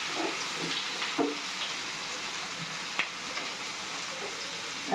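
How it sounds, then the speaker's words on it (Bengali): Potatoes and chopped vegetable stems fry steadily in hot oil in a pan, giving a soft continuous sizzle with a few light clinks of stirring, close by with no talking. "তেলের সাথে আলু ডাঁটা ভালো করে ভেজে নিচ্ছি।"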